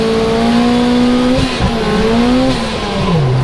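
A turbocharged 414 bhp Lotus spins its wheels on new track tyres, the engine droning steadily with pitch bending up and down while tyre squeal rides on top, close and loud.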